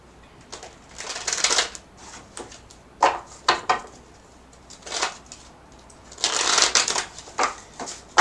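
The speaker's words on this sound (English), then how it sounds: "Let me shuffle the cards" Tarot cards being shuffled in several bursts of rapid riffling and flicking, close by, with short pauses between rounds.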